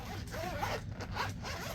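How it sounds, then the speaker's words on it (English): The zipper on a compact travel first aid kit case, pulled in several short rasping strokes at close range. "It has good zippers."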